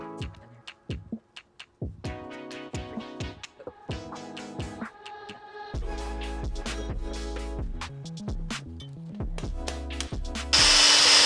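Bursts of power drilling with short stops and restarts while assembling an 80cc two-stroke gas bike kit, harsh and close, followed by a longer continuous grinding run and a final noisy burst.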